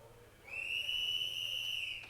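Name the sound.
referee's whistle at a timber sports competition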